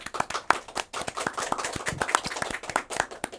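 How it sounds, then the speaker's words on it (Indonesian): A small audience at a young entrepreneurs' talk show claps for Mas Alam, a few distinct hands clapping close by in a quick, uneven rhythm, without talk. "tepuk tangan dulu untuk Mas Alam"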